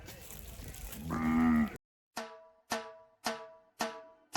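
A bull lows loudly once, followed by a series of separate, evenly spaced sharp tones.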